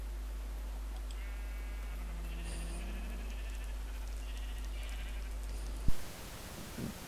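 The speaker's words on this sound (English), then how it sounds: "here we see today a pink sheep in its natural habitat" A pink sheep in Minecraft bleats several times in a row, clear and close against quiet game ambience, ending with a sharp thump and brief rustle.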